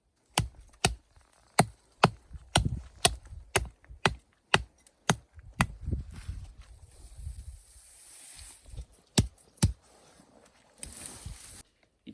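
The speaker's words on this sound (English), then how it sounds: "in a survival situation, you'd want to chop down some green wood for shelter building" An APO-1S survival knife chops green wood in sharp, close strikes at a fairly regular pace, about a dozen blows over the stretch, with quieter rustling and handling sounds between them.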